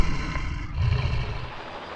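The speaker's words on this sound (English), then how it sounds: "They are lifted onto the back of a lorry by helicopter" A helicopter hovers while lifting 400-kilogram crates of harvested cranberries from a field onto a lorry, giving a steady, loud, broadband roar with a heavy low rumble that swells slightly midway and holds without a break.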